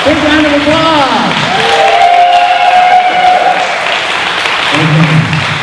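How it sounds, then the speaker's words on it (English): At a Corvette Dream Giveaway winner party, the audience gives sustained, loud applause, with cheering and whooping voices rising over the clapping throughout. "Big round of applause!"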